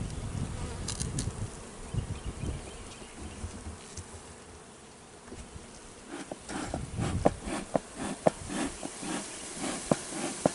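Honey bees at the hive buzz in alarm, a dense, loud droning hum that fills the air, dips briefly, then swells again with sharper close-by buzzing passes.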